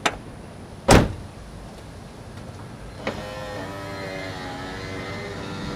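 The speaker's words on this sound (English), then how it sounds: "Window rolled down just fine." A Honda CR-V door with a repaired power window motor: a sharp click and thump, then the motor whirs steadily as the glass rolls down, close and alone.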